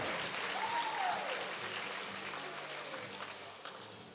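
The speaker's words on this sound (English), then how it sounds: "Ladies and gentlemen, a round of applause for your first senior, Austin Fennell" Crowd applause fills a basketball arena for a senior player on senior night of a men's game against North Georgia, steady broadband clapping fading slightly over several seconds, with a faint whistle-like tone early on.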